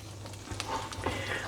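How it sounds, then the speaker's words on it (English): Coconut flour keto bread sizzles and crackles steadily in a hot pan, with a few scraping stir sounds and no voices. "now it's all moist and it's sizzling away nicely"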